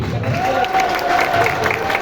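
Clapping from an audience after a stage acting performance, a steady dense wash of hands lasting the full two seconds with some crowd murmur mixed in, fairly close and even in level.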